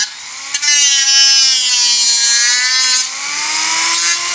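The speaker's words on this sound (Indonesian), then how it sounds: "Habis ini langsung digeragaji teman." A hand saw cuts through wood in one long continuous stroke that rings with a loud, bright tonal squeal, opening with a short sharp knock.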